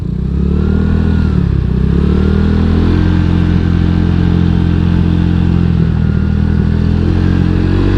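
A new Honda Vario 150 scooter riding on a road, its engine humming steadily and loudly throughout with faint clattering, heard close up with no talk.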